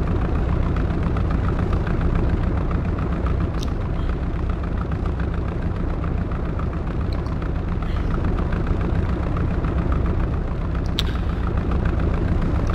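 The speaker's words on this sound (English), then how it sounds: "Now you've manually started an engine in Flight Simulator X for a propeller." A piston propeller plane's engine runs in Flight Simulator X, a loud, steady low drone with a constant throb that holds unchanged throughout, with no talk.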